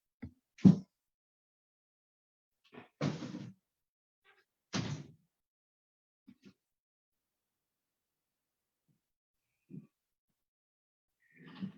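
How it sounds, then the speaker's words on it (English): Doors being closed in a house, a handful of separate thuds and clunks spaced out over quiet stretches, each short and fairly close, with no talking. "Have to close the doors"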